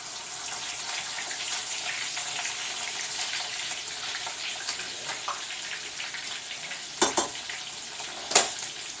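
Chicken fried steak frying in a pan, a continuous hiss and crackle of hot oil, with a couple of louder clatters near the end as pieces are flipped.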